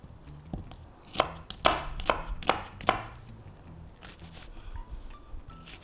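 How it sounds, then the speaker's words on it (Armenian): A knife chops onion on a board, a run of five or six sharp, sometimes uneven knocks, then quieter scraping and handling, close up and without talk. "Սոխը գտրատում ենք։"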